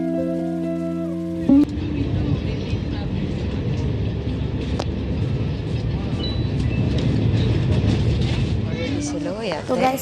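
A passenger train runs with a steady, broadband rumble and rattle throughout, heard from inside the carriage, with people talking over it; a short burst of music plays before the running noise takes over.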